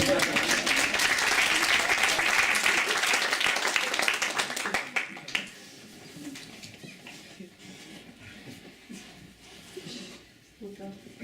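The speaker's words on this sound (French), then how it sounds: "les applaudissements marquent la fin de la scène" A small audience at an adult improv theatre workshop claps to close a scene. The dense applause cuts off after about five seconds, leaving quiet room noise and scattered soft sounds.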